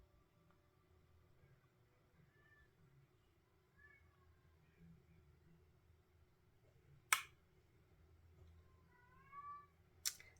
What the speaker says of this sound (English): I don't know if you guys can hear my cat crying.